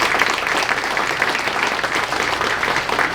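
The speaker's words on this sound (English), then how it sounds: "And you deserve a round of applause for that." A crowd at a heritage month celebration breaks into steady, enthusiastic applause, dense clapping that holds at an even level for the whole stretch.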